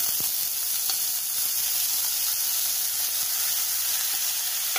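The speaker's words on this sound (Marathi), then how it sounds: "ही भाजी अशी तेलावर घातली आहे मी" Chakvat leafy greens sizzle in a teaspoon of hot oil in a kadhai, a continuous soft, even hiss with faint crackles, close and fairly quiet, with no voices.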